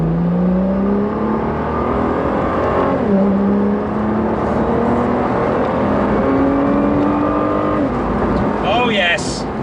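A 2017 Nissan GTR with a Stage 4 Litchfield upgrade at 675 bhp accelerates from inside with a loud, rising engine drone, broken by smooth gear changes that drop the pitch around three and eight seconds. Speech is mixed under the engine.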